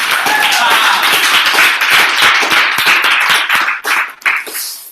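Close, loud applause from a small audience at a young people's event, with sharp distinct hand claps over a cheerful buzz of voices, breaking off briefly near the end.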